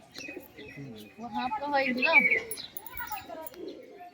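Madras pigeons coo and warble close by, a rolling throaty burst swelling in the middle, with chirps mixed in and voices talking nearby.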